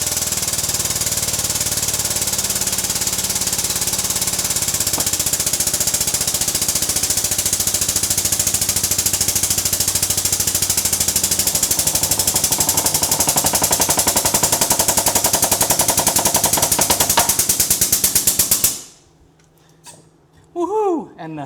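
Rapid, loud mechanical hammering in a workshop while a wheel bearing and flange are pressed together for a front wheel bearing replacement on a 5th generation Runner, lasting about 18 seconds before stopping, followed by a brief voice.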